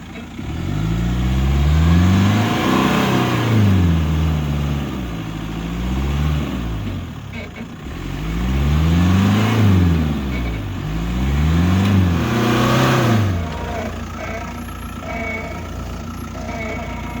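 A Land Rover engine revs repeatedly on a wet, slippery, muddy off-road trail, its loud mid-pitched drone rising and falling in several surges before settling to a steadier rumble.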